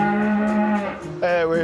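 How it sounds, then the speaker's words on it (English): Cattle in a farm herd low and moo on a frosty morning, a long sustained call followed by a second rising bellow, loud and close with no talk. "it's a big day for Paul and his cattle herd"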